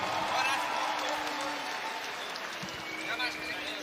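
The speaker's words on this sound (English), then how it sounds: "keep the applause going for El Gigante, Julio Cesar Calimeno" Crowd applause fills a boxing arena, a broad steady wash of clapping and cheering that holds at a roughly even level, with a faint voice over the noise.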